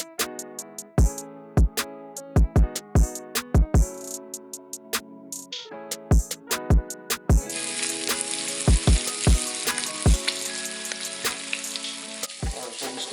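Turkey bacon and turkey sausage fry in a breakfast skillet, sharp clinks and ringing taps punctuating the cooking; a broad, hissing sizzle swells up and fills the second half alongside continued knocks.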